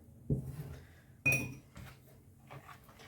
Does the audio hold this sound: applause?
no